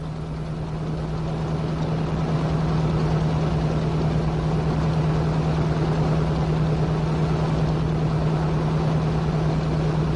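An asphalt distributor's engine and pump run steadily with kerosene circulating through the pump, a continuous close droning hum holding level throughout.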